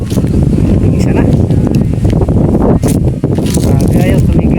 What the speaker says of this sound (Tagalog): ayaw tumigil ng hangin